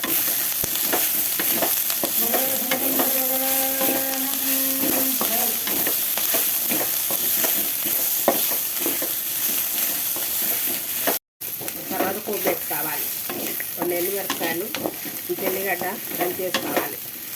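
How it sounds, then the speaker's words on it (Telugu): Chopped onion frying in a pan for a chutney, with a continuous loud sizzle and frequent stirring scrapes; a brief voice rises above the frying partway through. "ఈ ఆనియన్స్ అయితే మనం కలర్ చేంజ్ అయ్యే వరకు ఇట్లా వేయించుకోవాలి"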